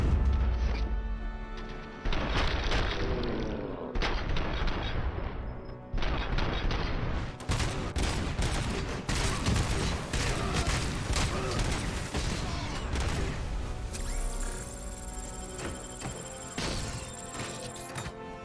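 Gunfire and crashing impacts in the video game Robocop: Rogue City, loud dense bursts of shots and smashes running nearly continuously with brief pauses, heavy and close.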